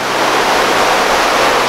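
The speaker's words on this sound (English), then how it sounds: "As you can see behind me, the waterfall is there. The sound is awesome." Farin Ruwa waterfall roars as a loud, dense, unbroken wash of falling water heard up close, with no voices over it.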